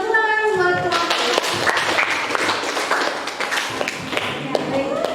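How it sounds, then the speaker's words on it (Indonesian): A classroom of students claps for a presenting group, a dense patter of hand claps running for several seconds after a brief voice at the start, with scattered louder individual claps standing out. "Tepuk tangan buat kelompok."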